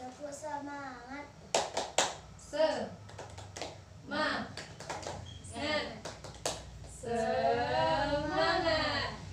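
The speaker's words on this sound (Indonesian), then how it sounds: "kita tepuk semangat terlebih dahulu ya" Young second-grade children in a classroom perform a rhythmic clapping chant, with sharp group claps in a patterned sequence between loud, sing-song children's voices calling out the chant.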